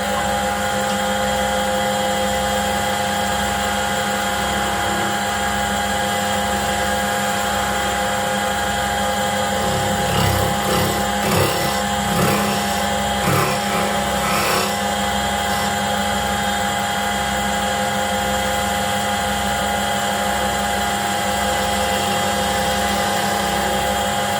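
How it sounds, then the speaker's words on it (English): A half-inch spindle gouge cuts a wooden flower vase spinning on a lathe. It makes a loud, steady droning hum with a run of rougher, scraping cutting bursts in the middle stretch. "Half-inch spindle gouge to clean that up."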